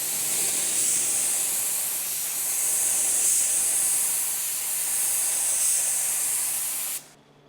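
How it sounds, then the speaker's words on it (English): SEM World Class DTM epoxy primer sprays in a steady, loud, close hiss for about seven seconds before cutting off abruptly, with no voices over it. "I'm using SEM World Class DTM epoxy primer"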